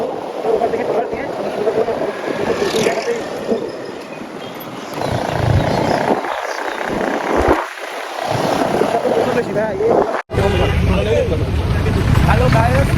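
A trawler boat travels through the Sundarbans waterways, its steady engine drone and water wash continuous and loud, with people talking nearby throughout.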